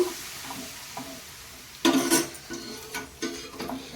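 Gram flour and sugar syrup for Mysore pak are stirred with oil added, giving soft scraping and bubbling with a sharp burst of sizzle midway, then intermittent spatula scrapes.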